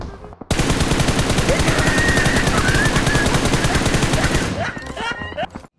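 Sustained rapid automatic gunfire from PUBG Mobile, loud and continuous for about four seconds before tapering off, with faint in-game effects trailing at the end.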